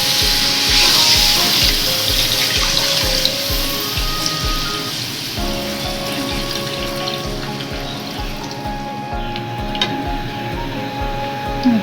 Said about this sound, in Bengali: আলু দিয়ে এবার দিয়ে দেবো নারকেলের দুধটা।